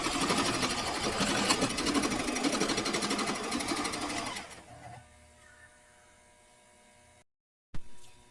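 A sewing machine stitches elastic onto a dress, a rapid steady mechanical chatter for about four seconds before it slows and fades to a low hum, ending with a short clunk.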